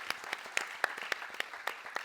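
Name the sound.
audience applause at leadership panel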